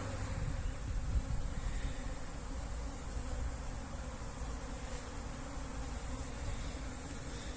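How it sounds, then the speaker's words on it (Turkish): A honeybee swarm buzzing at a beehive, a dense, continuous drone of many bees, even and fairly faint throughout, with no voices. "Arı çok mükemmel. Güzel bir oğul"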